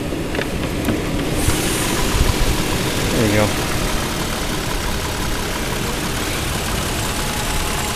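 A 2008 Toyota 4Runner Limited with a 4.0-litre 24-valve V6 idles under an open hood, a steady, even engine hum at close range, with a brief spoken comment near the start.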